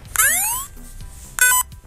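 Two bursts of electronic chirping beeps from a Makeblock Codey Rocky coding robot toy, the first a rising warble, the second a shorter bright bleep, with faint room noise between.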